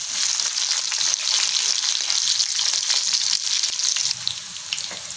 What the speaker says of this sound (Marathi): त्याच्यामध्ये लसूण टाकून घेते आणि मिरची बारीक कट केलेली आहे ती सुद्धा टाकून घेते आणि आपल्याला ह्याच्यामध्ये छान परतून घ्यायचे